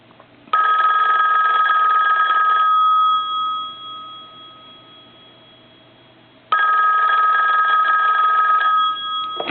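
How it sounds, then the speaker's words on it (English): A Western Electric rotary telephone bell rings loudly in two long bursts, each lasting a few seconds, separated by a pause of silence. "I'm going to go ahead and let it ring a little bit."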